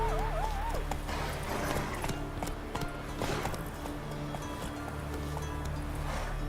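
Roach, the horse in a Witcher game, gallops with a steady rhythmic clip-clop of hooves, faint and fairly close, under a low ambient hum with brief speech.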